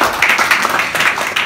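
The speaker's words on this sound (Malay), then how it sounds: "Tepukan untuk dia." Short burst of audience applause at a motivational sharing session, close and fairly loud clapping with possible crowd voices mixed in.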